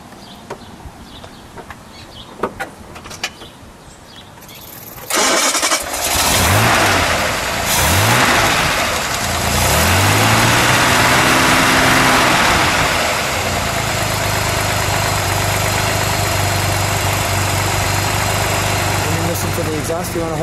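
A 1957 Aston Martin DB2/4 Mark III fires up after a few faint clicks. The engine catches with a loud burst, revs up and down, then settles into a steady idle. Voices can be heard talking over it.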